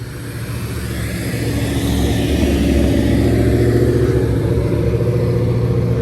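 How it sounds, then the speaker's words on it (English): Loud car engine revving at night on a street in Bellmore, a steady throaty roar that swells as the car approaches and stays close and strong, with no talking. "as loud as that car sounds"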